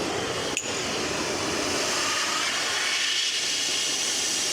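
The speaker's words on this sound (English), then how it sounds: "So I'm gonna have to come in here with the torch and just cut that off." Cutting torch burning through a seized wheel stud on a Talbert 50-ton lowboy trailer, a steady close roaring hiss with a brief sharp pop near the start.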